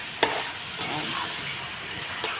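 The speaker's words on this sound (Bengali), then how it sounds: "জিরের গুঁড়ো নুন দিয়ে দিয়েছি এখন আমি কষিয়ে নেব" Ground cumin, salt, ginger and spices sautéed in a pan for mixed vegetables and dal, giving a soft, steady sizzle with a few sharp spatula clicks, close by and without talking.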